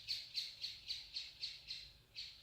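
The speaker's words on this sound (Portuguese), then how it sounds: "é um passarinho cantando alto aqui querendo participar da nossa palestra" A small bird sings loudly nearby during a talk, repeating a sharp, bright chirp about every quarter second in a steady, even rhythm, with a short pause before the final call.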